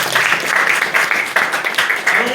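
An audience in a community gathering about local historic Black churches breaks into steady, dense applause, a continuous wash of clapping with faint voices underneath throughout.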